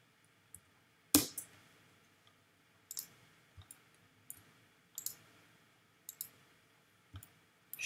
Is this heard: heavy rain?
no